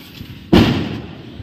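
A single Diwali firecracker bursts in a village celebration, one sharp, loud bang that decays into a lingering rumbling tail.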